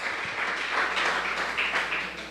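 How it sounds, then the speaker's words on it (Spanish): A church congregation applauds in a steady, dense wash of clapping that holds evenly throughout, somewhat distant in a large room. "dele fuerte aplauso al Dios del cielo"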